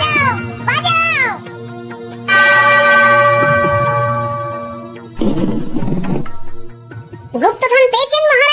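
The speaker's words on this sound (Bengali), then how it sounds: "ওই ঘন্টাটা বাজাও, বাজাও।" A large bell painted with a moon rings once in a cartoon, its loud struck tone slowly fading, while cartoon voices talk before and after.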